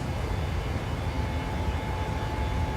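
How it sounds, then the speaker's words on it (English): A PMDG Boeing 737 jet airliner climbing after takeoff in Microsoft Flight Simulator, a steady loud engine roar with a faint whining tone held throughout, continuous and unbroken with no talking. "I'm going to just let the plane just fly up a little bit"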